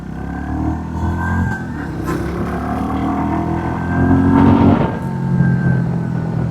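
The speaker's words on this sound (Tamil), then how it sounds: "ஸ்டாக்லேயே வந்து எக்ஸாஸ்ட் நோட் நல்லா இருக்குங்க." A 350cc cruiser motorcycle with its stock exhaust runs with a throaty engine note, rising briefly as the revs climb midway before settling back.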